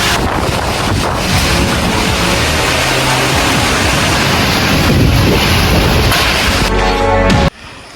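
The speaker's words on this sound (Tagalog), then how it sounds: "Sobrang lakas po ng hangin, parang buhawi." Howling typhoon wind battering a rural area, a loud roaring gust blasting against the microphone almost without pause, then cutting off abruptly just before the end.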